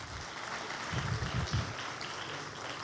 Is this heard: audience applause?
yes